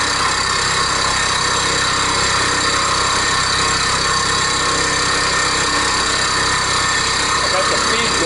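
A milling machine runs a single-flute indexable end mill at unusually high spindle speed, producing a loud, continuous, even roar and whine that never lets up.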